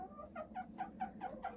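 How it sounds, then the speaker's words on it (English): Backyard chickens cluck in a quick, close series of about seven short, evenly spaced calls, clear against a quiet background. "Look at the size of these new chickens."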